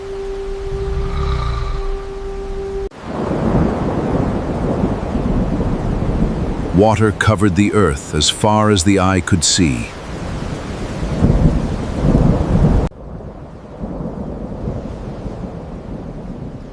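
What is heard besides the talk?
thunderstorm with rain, sound effect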